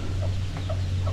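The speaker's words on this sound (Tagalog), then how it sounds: "Walong sisiw pala itong napisa." Newly hatched chicks and a hen clucking on a farm, a few soft short peeps over a steady low hum.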